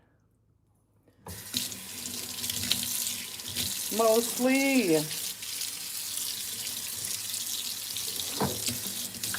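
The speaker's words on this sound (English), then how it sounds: "now I'm just gonna let it drip, drip, drip, drip" Tap water runs steadily into a sink as a continuous broadband rush, starting after a second of near silence; a brief voice cuts in over it near the middle.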